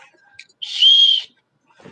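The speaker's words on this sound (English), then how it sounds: "It has your little whistle on your sternum strap, which is a nicety." A small plastic safety whistle on a backpack sternum strap gives one short, shrill blast lasting about half a second, close and loud against near silence.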